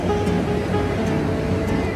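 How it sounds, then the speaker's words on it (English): Ocean waves wash against the coast south of Sydney on a cold winter morning, a steady, loud rushing surf that fills the whole stretch with no break or voices. "Look at that ocean."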